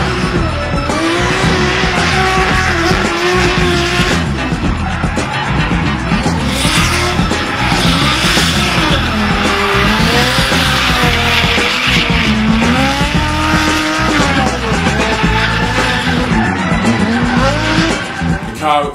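Drift car skidding at the first round of D1NZ at Wellington Family Speedway, tires squealing in long wavering screeches over a loud engine that runs without letup for the whole stretch.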